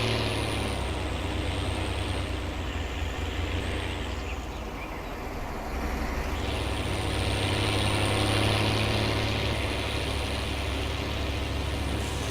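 A tractor engine in Farming Simulator 19 drones steadily and loudly throughout, a constant low rumble with a faint higher whine, no voices.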